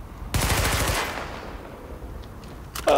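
Rapid automatic gunfire in The Division aimed at a car, a loud dense burst lasting about a second, then fading debris and a sharp shot near the end.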